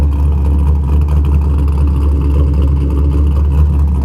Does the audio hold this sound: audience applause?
no